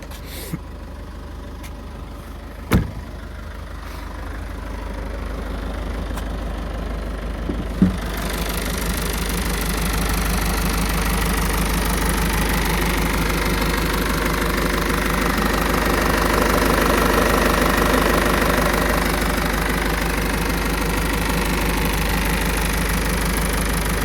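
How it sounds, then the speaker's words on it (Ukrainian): A 2018 Citroen C4 Spacetourer engine idles steadily with a low, even rumble and faint knocking texture, after a couple of brief thumps near the start. "Ну, ще послухаємо мотор."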